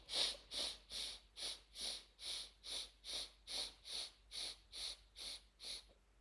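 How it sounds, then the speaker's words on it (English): Fourteen short, breathy nasal sniffs through one nostril in a breathing exercise, in a steady quick rhythm, about two per second, close and soft against a quiet background. "Inhale 15 short sniffs."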